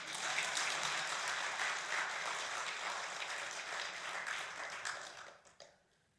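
Church congregation applauding during a sermon, a dense even wash of clapping that holds steady and then tapers off quickly near the end.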